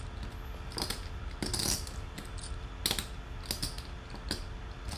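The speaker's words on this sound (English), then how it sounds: "If you hear any clinking, I sometimes shuffle chips." Poker chips clinking in short bursts as they are shuffled, light sharp clicks over a steady low background hum, fairly quiet and close.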